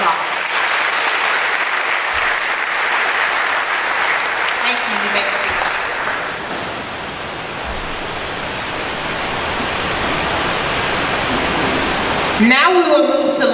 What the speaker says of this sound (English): Let's give all of our math students a round of applause.